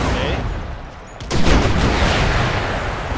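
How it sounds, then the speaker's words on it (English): A bomb goes off in the video game Empire: Total War, a sudden loud blast that breaks in after a quieter stretch and rolls on as a dense, rumbling roar. "Are they going to trigger the bomb? Yes, they are."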